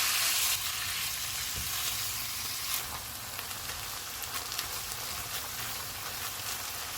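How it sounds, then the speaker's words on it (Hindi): Minced meat and garlic fry in hot oil over medium-high heat, giving a steady, close, loud sizzle that never lets up, with a few faint stirring scrapes. "ऑयल गर्म हो गया, इसमें लहसुन डालेंगे, कीमा डालेंगे, चूल्हे को मीडियम टू हाई रखेंगे और इसको कलर चेंज होने तक पकाएंगे।"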